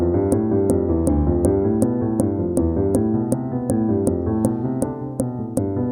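Piano finger exercises play a steady, even run of notes at a slow, regular 60 bpm pulse, with a click marking each beat throughout.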